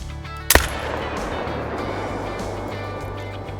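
One sharp, loud rifle shot fired at an animal in the hunting game Call of the Wild, followed by a long fading echo across open ground.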